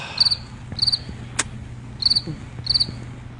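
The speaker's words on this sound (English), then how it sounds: "More crickets, huh?" Cricket chirps play as a sound effect in repeated short bright trills, about four bursts with a single sharp click between them, over a low steady hum and no talk.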